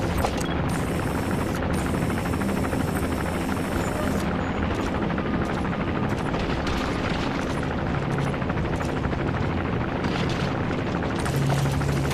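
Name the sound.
helicopter patrolling in Metal Gear Solid V video game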